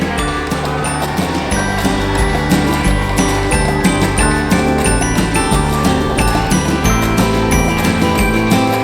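A printer at a Build-A-Bear Workshop runs continuously with loud, dense mechanical ratcheting and gear-like clicking that keeps an even, busy rhythm throughout, with no one speaking.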